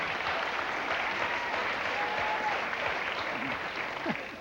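A late-night television studio audience applauds in a steady, even wash of clapping that holds for several seconds, with a faint voice briefly underneath.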